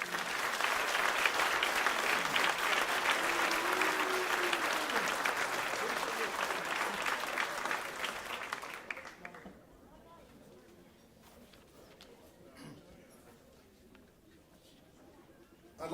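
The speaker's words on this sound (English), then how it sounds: "please, if you would, round of applause for Bruce" A banquet audience at a high school hall of fame induction ceremony applauds an honoree, a full, steady roar of clapping for about nine seconds that then tapers off into quiet room tone with faint movement.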